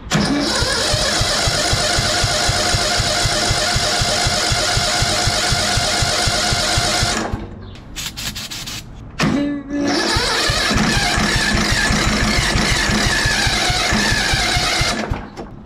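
Hydrolocked engine cranked with a fast, steady, loud mechanical chugging; it briefly stops and falters, then cranks and chugs again, close and continuous.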